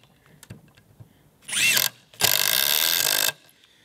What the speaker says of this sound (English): Now I'll do it with an impact driver.